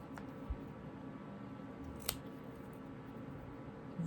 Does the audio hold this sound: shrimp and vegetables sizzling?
no